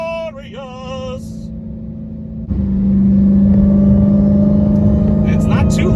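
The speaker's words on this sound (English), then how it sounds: "Hellcat, BORLA ATAK. Sounds like a race car." A Dodge Charger Hellcat fitted with a Borla ATAK exhaust, heard close up: a voice speaks briefly, then the engine swells into a loud, deep, steady roaring drone that holds to the end.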